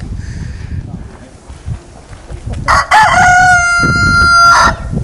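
Roosters at Bishop Castle crow nearby, one long loud cock-a-doodle-doo ringing out after softer bird calls and background murmur, with another crow overlapping at the end.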